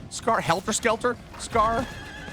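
A horse in Diablo 4 gives a few sharp, close whinnies in quick bursts, then one longer neigh, with faint hoof clatter underneath.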